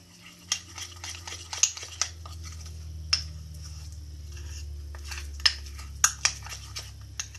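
Vanilla and cookies and cream flavoring being mixed into dough, with soft scraping and occasional sharp clicks of a utensil against a bowl, close and irregular over a low steady hum, no talk.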